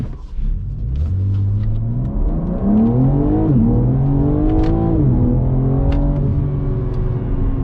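A 2022 BMW M4 Competition xDrive accelerates hard from a stop, its engine rising loud and close through several upshifts in a continuous surging roar, with no talk.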